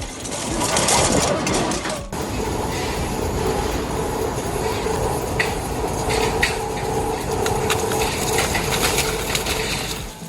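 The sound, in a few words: industrial shredder crushing scrap steel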